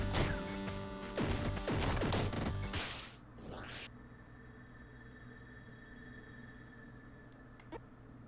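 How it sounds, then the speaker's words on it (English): A burst of crashing, clicking game effects from the red critter in Downwell fills the first three seconds, then drops to a quiet hum with a couple of faint blips. "that red critter has its own sound."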